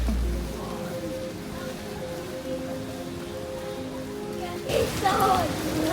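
Steady rain falls during travel in Taiwan, a continuous soft hiss that runs throughout, with a few faint tonal hums beneath and a voice starting to talk near the end.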